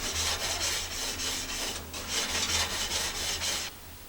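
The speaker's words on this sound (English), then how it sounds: "then you can clean all of your grates and everything" Brush scrubbing barbecue grill grates in steady back-and-forth strokes, a close, continuous gritty rasp with a brief pause midway, no talk.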